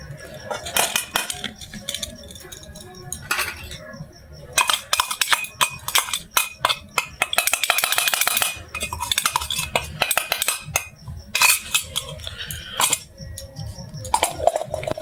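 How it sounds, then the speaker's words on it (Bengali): Ground soybean and peanut pour into a bowl amid repeated clinks and scrapes of a spoon against the dish, a busy clattering run of light knocks close by. "আমি এখন এটা বাটিতে ঢেলে নেব।"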